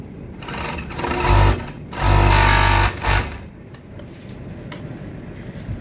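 Sewing machine stitching pieces of a cotton boxer, in several short loud bursts of rapid mechanical whirring separated by brief pauses, close up.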